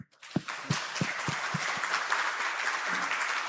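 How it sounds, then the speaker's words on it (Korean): A church congregation claps to welcome first-time visitors at a Sunday worship service, beginning with a few separate claps that swell into steady, full applause across the room. "우리 환영의 박수 인사하도록 하겠습니다"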